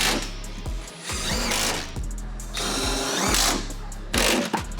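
A power drill drives screws while a Firminator implement is installed, its motor whirring up in several short and longer bursts with brief pauses between, close and loud, no voices.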